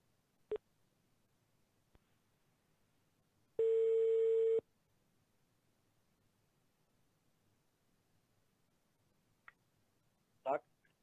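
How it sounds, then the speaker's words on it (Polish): Telephone tones sound during a town council session broadcast in Ropczyce: a few sharp clicks, then a single steady tone lasting about a second, then faint clicks later, all in near silence. "Zaraz spróbujemy się połączyć telefonicznie."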